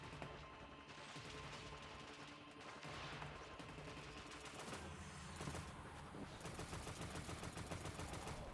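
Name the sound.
auto rifle gunfire in video game Destiny: Rising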